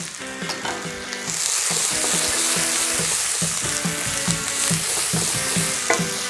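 Chili and garlic hit a pan of cooking onions and fry with a loud, steady sizzle, while a utensil stirs and scrapes against the pan in quick, irregular knocks.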